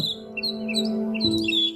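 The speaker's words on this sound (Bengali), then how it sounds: "পাখির কলরব" Birds chirp and tweet in Wengen village, Switzerland: several short, bright calls repeating through the scene over a steady low hum, with no one talking.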